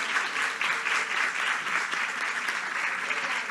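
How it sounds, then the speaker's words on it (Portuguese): An audience at a book fair event claps for baby Liz: dense, continuous applause from many hands, steady and moderately loud throughout, with no voices over it. "palmas para Liz"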